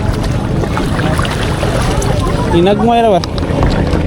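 Strong wind buffets the microphone on a kayak out at sea during a fishing trip off Cebu, a constant roaring rush, with a brief spoken phrase partway through.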